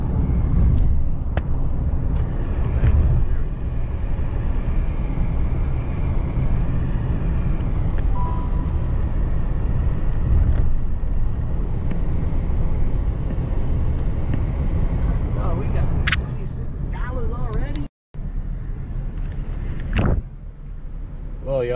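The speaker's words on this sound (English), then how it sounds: "We didn't escape this. Can't escape traffic." Las Vegas road traffic heard from a moving car, a continuous loud low rumble of engines and tires with passing vehicles and a brief dropout near the end.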